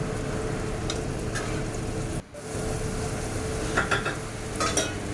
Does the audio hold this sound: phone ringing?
no